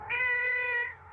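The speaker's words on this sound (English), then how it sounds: "Oh, the cat's in the wall." A cat meows from inside a brick wall, one clear drawn-out cry lasting most of a second, fairly close and loud over a faint low background hum.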